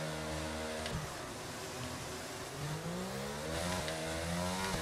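An F1 car engine in the F1 22 racing video game revs at the race start, a continuous buzzing whine that rises and falls in pitch and stays loud throughout.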